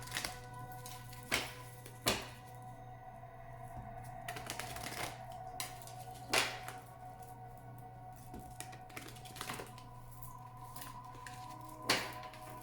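Oracle cards are shuffled by hand in quiet, soft rhythmic riffling and tapping with several sharper snaps, over a steady low hum.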